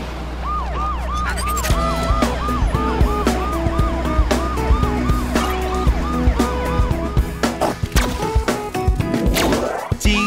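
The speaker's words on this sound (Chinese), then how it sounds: "警车，警车，滴滴呜" A cartoon police car's siren wails in a rapid, repeating electronic pattern over bouncy children's-song music. Percussive hits punctuate it, and the siren gives way to other sound effects toward the end.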